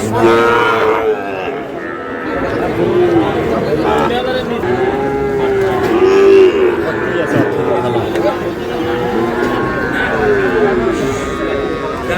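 Sahiwal bull calves, about 10 to 11 months old, moo repeatedly at a busy cattle market in Khulna, drawn-out calls rising over a constant crowd murmur, with people talking nearby.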